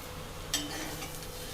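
Arbi (taro root) masala fry stirred in a pan over high heat, a single close scrape and clink of a spoon against the pan followed by a soft, faint sizzle.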